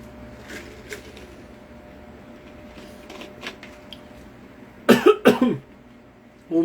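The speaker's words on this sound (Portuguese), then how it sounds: "Ô misericórdia, que tosse." A close, harsh burst of coughing, two or three hacking coughs in quick succession after a quiet stretch with faint shuffling.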